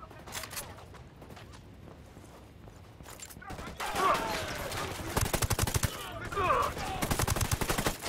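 Rapid bursts of gunfire from a Ghost Recon Wildlands firefight crackle in repeated volleys, growing louder and denser partway through, with a player's voice talking over the shooting.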